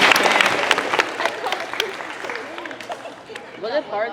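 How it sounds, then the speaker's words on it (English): An audience at a school motivational speech applauds, dense clapping loud at first and gradually thinning out, with a few voices and cheers mixed in toward the end. "Give him a round of applause"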